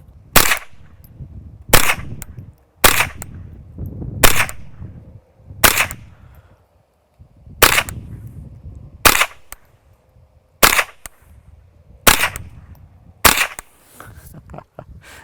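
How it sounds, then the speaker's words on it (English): Ten suppressed .22 rifle shots fired through a CMMG Defcan 22 suppressor with standard-velocity ammunition, each a sharp, fairly loud crack with a short tail, spaced about one to one and a half seconds apart, no voices. "let's take a couple rounds and see how quiet this thing is."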